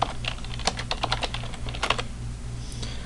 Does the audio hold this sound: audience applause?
no